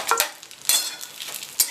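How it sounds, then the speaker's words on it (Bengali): Vermicelli (simui) frying with two bay leaves in a pan for payesh, heard as short bursts of sizzle and crackle with brief stirring scrapes, close and fairly loud with no voice. "2টো তেজপাতা দিয়ে আমি সিমুইটাকে ভেজে নিচ্ছি।"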